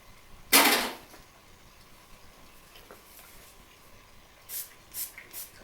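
A single sharp hissing spray burst onto a false lace beard close by, followed by a few shorter, fainter spritzes after a quiet pause.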